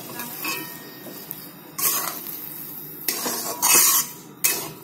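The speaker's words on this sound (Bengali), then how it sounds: "আলুটা সেদ্ধ করে জলটা ঝরিয়ে তারপরে এরকম ম্যাশ করে নেবে" Boiled potatoes, drained of their water, mashed in a pan, with a few bursts of scraping and clattering against the metal and quieter stretches between them, heard close with no talking.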